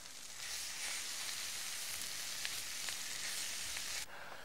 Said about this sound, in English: the curry powder and the flour. And give it all a good old stir.